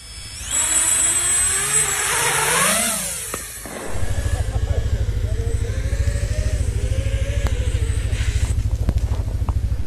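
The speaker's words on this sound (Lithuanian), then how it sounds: "į mane turėtų greitai atlėkti dronas Kamikadze" A kamikaze drone flies in toward an anti-drone jammer. Its motor whines loudly and sweeps up and down in pitch, then settles into a loud, rapid, pulsing buzz that holds steady to the end.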